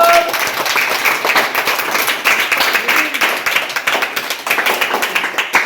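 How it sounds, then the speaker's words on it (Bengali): A group of guests at a wedding anniversary celebration claps together in a sustained round of applause. A few voices murmur faintly underneath. "সবাই হাততালি দাও"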